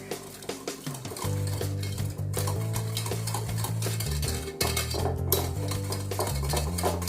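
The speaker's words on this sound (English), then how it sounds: "Add in your melted butter. Give it a whisk." Melted butter being whisked into banana bread batter, a steady clatter of whisk against bowl running under soft background music with no talk.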